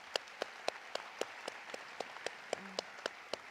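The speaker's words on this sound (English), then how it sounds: "let's give them a round of applause" Sparse applause at a medical school white coat ceremony, a handful of evenly spaced, crisp claps standing out over a quiet room tone, with a faint voice briefly in the background.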